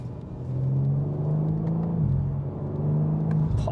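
BMW M4 sports car engine running loud and close, a steady deep rumbling drone with a brief pitch dip midway before settling back, no talk over it.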